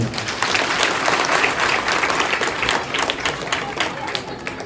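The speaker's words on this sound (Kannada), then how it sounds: "ಕೊಡ್ತೀವಿ ಅಂದ್ರೆ ಚಪ್ಪಾಳೆ ಕಾತ್ರಿ ಎಲ್ಲರೂ" Clapping from a village crowd gathered for a religious event, sustained and fairly loud across the whole stretch, with a dense, steady patter of many hands and a few voices mixed in.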